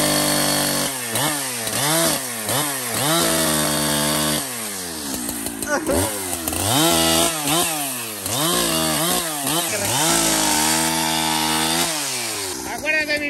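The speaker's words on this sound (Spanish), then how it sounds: "Acuérdate de mi motosierra." A chainsaw cuts into wood, its engine revving up and bogging down in repeated surges, loud and close with a harsh buzzing whine throughout.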